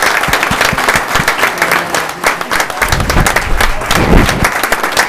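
An audience at a city council meeting applauds students, a dense and loud round of clapping from a crowded room that continues steadily throughout.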